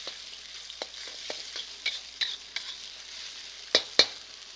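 Cooking wine splashes into a hot wok of marinated shrimp being stir-fried, under a steady loud sizzle broken by repeated sharp scrapes and clacks of the spatula, with two louder knocks near the end.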